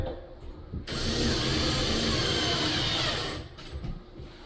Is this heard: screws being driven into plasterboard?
yes